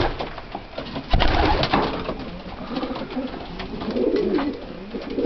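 A pigeon coos softly several times nearby, low throaty calls rising and falling over a faint rustling background.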